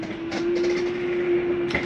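A Flagstaff 29RBS travel trailer slide-out retracts under a steady motor hum with a sustained tone, broken by a few short clunks and rattles near the start and end.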